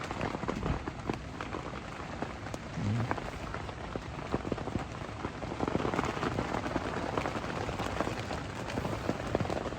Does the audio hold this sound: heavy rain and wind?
yes